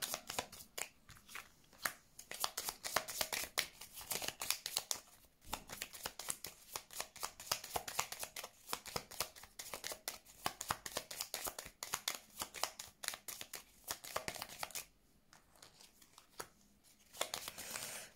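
A deck of tarot cards being shuffled by hand: repeated quick riffling and papery flicking bursts, close and fairly soft, with a brief pause near the end before the shuffling resumes.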